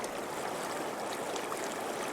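River water rushes over smooth, slick rocks in a steady, broadband wash, fairly soft and continuous, with no voices.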